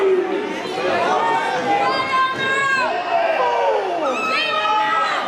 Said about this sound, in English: it doesn't help for Strokes to be hearing the crowd behind his opponent